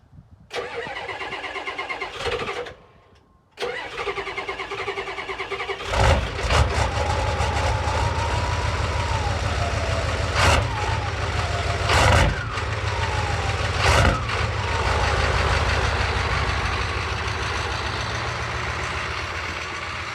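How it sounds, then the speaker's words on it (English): A Toyota Celica with a non-working cold start injector cranks briefly, falls silent, then catches and fires up into a loud, steady, rough-edged idle with occasional revs, heard close with no talking. "So let's give her a little snort and see if she'll fire up for us."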